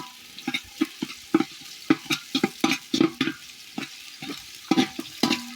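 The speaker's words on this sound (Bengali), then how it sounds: "নাড়াচাড়া দিয়ে দিয়েছি এটা ভাজা ভাজা হলে আমি একটু আদা বাটা দিব এখানে" Food frying and sizzling in a pan on a village clay stove, stirred with sharp, rhythmic scraping strokes that repeat every half second or so, close and clear with no voices.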